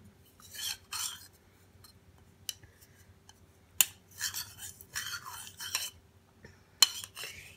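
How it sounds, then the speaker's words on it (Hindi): A spoon scraping and clinking against a bowl while cooked, ground rice paste is mixed, in short bursts of scraping strokes with quiet pauses between, close and fairly soft. "हम इसे मिक्स कर लेंगे पहले"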